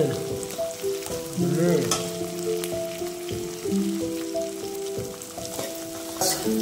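Onions sizzling in hot oil after cumin seeds have crackled, for a pork and capsicum curry, with steady frying hiss and intermittent scrapes of stirring; a sustained tonal hum runs underneath throughout.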